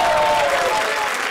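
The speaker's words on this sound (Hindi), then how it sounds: "जोरदार तालियां हो जाए उन पेड़ों के लिए जिसके ये काटे हैं" A comedy-show audience at the Comedy Circus Ke Mahabali grand finale applauds loudly, a dense continuous wash of clapping with a faint tone running beneath it.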